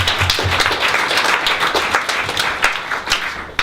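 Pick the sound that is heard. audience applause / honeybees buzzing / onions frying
audience applause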